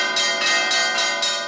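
Church bells ring in overlapping, sustained metallic tones with several strikes in quick succession, loud and continuous across the short span, no voices.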